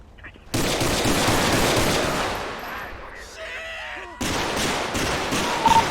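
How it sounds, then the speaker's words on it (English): Bursts of gunfire in the LSPDFR police mod video game, loud and close, starting abruptly, pausing briefly, then resuming in a second dense volley, with a faint voice briefly underneath. "Shots fired."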